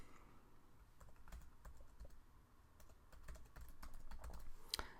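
Close, steady clicking on a computer keyboard as an email subject line is typed, a run of irregular keystrokes that speeds up toward the end and finishes with a firmer tap.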